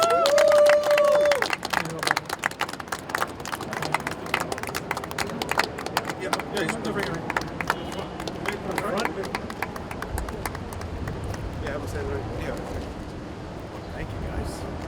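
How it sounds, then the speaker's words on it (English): Audience applauding at a Bronx award ceremony: a loud burst of claps near the start, then a sustained wash of clapping and crowd murmur that gradually thins out. "A round of applause, everyone."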